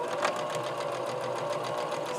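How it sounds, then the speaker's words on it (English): A sewing machine stitches a half-inch seam along the short side of a drawstring backpack. Its needle taps out a fast, even rhythm, close and clear, with no voices. "just going to sew your 1/2 inch seam allowance across the side there, the short end."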